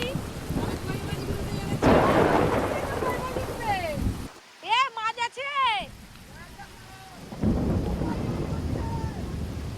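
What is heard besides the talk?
heavy downpour rain with thunder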